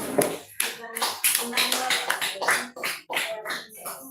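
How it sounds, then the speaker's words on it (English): A round of applause during a live online lesson on phonology, dense irregular claps sounding close and steady for several seconds, with voices mixed in. "Please, a round of applause."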